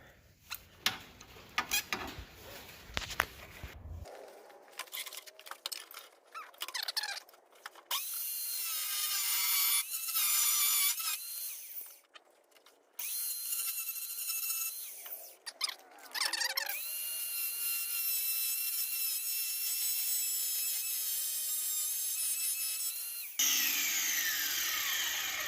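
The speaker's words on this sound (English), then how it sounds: "don't ever use the cutoff wheel in that direction" A cutoff wheel grinds through metal nubs while a WRX BRAT is being built. It gives several loud, high-pitched whining bursts of varying length with pauses between them, and quieter handling noise can be heard at the start.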